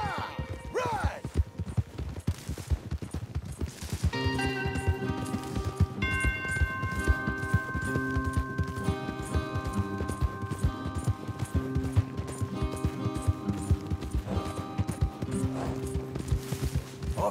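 Horses gallop in a video game with steady, rapid hoofbeats running the whole way through beneath a layer of sustained music.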